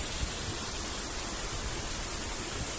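A forest stream in Thailand rushes steadily, a dense even wash of flowing water heard close with no breaks.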